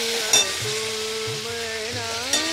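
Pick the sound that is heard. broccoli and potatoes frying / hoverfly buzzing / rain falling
broccoli and potatoes frying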